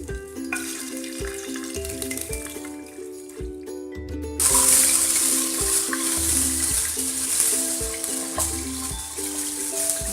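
Mutton hits hot oil with a bay leaf and green cardamom for Kashmiri rogan josh, a loud, close, steady sizzle that swells into stronger frying after a few seconds, with light background music throughout.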